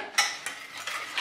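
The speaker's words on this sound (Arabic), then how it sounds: "وهنايا غادي نحرك" A spoon stirs milk, orange juice and starch in a pot, making short scraping and clinking strokes against the metal at close range.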